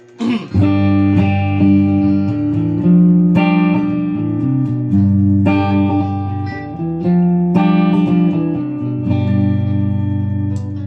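Electric guitar on a humbucker neck pickup playing thick, warm chords and riffs with a full, rounded low-mid tone, strummed in repeated phrases without any voices.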